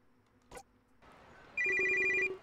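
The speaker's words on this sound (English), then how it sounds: "My phone vibrates and I go to look at it." Mobile phone alert in a video game, a short electronic buzzing tone that starts abruptly after a brief soft rustle and some background murmur, holding steady and fairly loud for under a second before the end.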